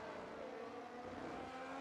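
Race car engine noise from a no-assist sim racing game at the Hungary round, a steady continuous drone held at a constant pitch, loud and alone with no talk.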